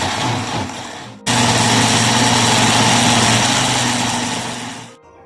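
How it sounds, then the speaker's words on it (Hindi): A kitchen blender whirring through ginger, green chili and tomato paste with half a cup of water, a loud steady motor drone that starts abruptly, runs for about four seconds and then cuts off. "हम इसको ब्लेंड कर लेंगे।"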